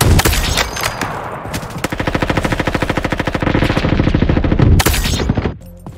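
Gunfire in the Roblox first-person shooter Frontlines comes as loud, rapid automatic bursts, one sustained fast-rattling stream with heavy shots at the start and near the end.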